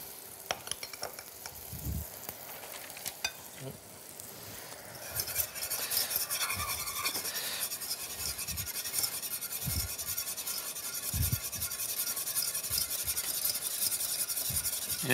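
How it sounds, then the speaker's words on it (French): Butter is whisked into a reduced cream and cider sauce for scallops, giving a rapid metallic scraping and stirring against the pan with a soft sizzle, close and continuous, no voices. "C'est de faire mousser c'est bien incorporer le beurre au liquide."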